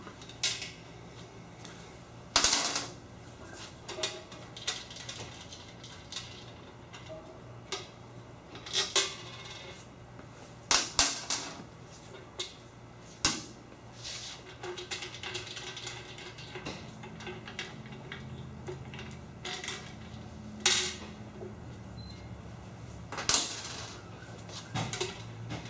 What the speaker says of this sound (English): Take the bolts out of the pump.